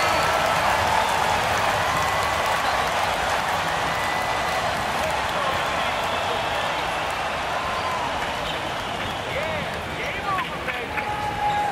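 A home arena crowd in the NBA 2K22 basketball video game cheers and applauds in a steady, dense roar that stays loud throughout, with commentary voices underneath.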